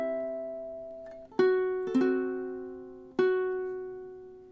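Ukulele plucks measure 20 of a song in time: a few bright, ringing notes and chord strums spaced about a second apart, each decaying slowly, played close and alone with no voice.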